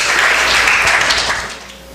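Church congregation applauding during a service, a dense wash of clapping filling the space, steady then fading slightly toward the end, no voices over it.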